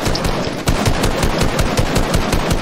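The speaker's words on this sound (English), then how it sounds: "Can I not get shot at by two different people?" Rapid automatic gunfire from two players in the Obsidian Box Fights video game, a dense, loud, continuous rattle of shots throughout with no talking.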